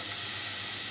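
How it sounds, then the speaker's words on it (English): Onions starting to fry in olive oil in a pan for a paella sofrito, giving a steady, close, even sizzling hiss that runs unbroken and alone for under a second. "add a little more olive oil to your pan. And let's start cooking the onions"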